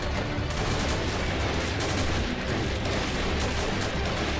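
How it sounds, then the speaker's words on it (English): Toy army soldiers firing in a video game beach landing: dense, continuous rifle and machine-gun fire crackling at a steady loud level, with occasional heavier booms mixed in. "Don't know why the rifle guy's shooting and not the machine gunner."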